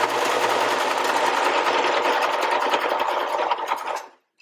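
A sewing machine stitches across a DIY pocket cloth diaper, running steadily and loud for about four seconds, close up, before stopping abruptly.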